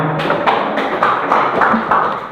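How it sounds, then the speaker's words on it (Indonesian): A group of workshop participants clapping hands together, a series of sharp, fairly loud claps in an uneven rhythm, heard close in a room. "Tepuk tangan untuk kita semua."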